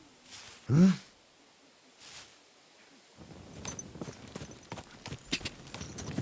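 Horse hooves clip-clop in the video game Kingdom Come Deliverance 2, a soft irregular series of steps starting midway after a snort-like burst, fairly faint.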